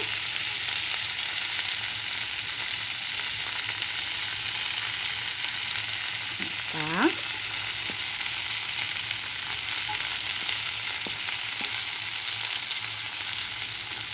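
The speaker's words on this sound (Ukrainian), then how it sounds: "Ось як вона гарно смажилась." Steady, close frying sizzle of pike fish hisses continuously in a pan, with a brief higher squeak partway through and no talking.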